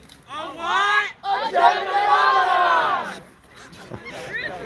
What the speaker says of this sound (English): Wonderful starting cheer there.